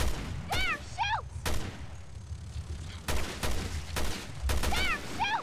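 Bursts of gunfire in the Resident Evil Revelations 2 game, sounding as repeated heavy booms spaced a second or two apart against a busy background with bird-like chirps, while people talk over the action.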